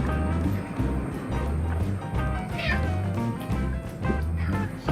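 A barn cat in a workshop meows repeatedly and loudly up close, a series of drawn-out, insistent cries.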